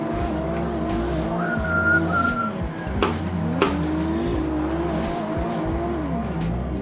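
Manual BMW 1M drifting in an Xbox racing game, its engine droning steadily with rising and falling revs while tyres squeal in repeated bursts throughout, loud and close with no voices.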